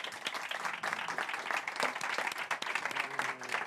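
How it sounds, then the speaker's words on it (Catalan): Sustained audience applause for Sara Roy at a women's-voices music and language event at Hotel Nobu in Barcelona: dense, steady clapping from a roomful of people throughout, with a faint voice or two mixed in. "un fort aplaudiment per la Sara Roy"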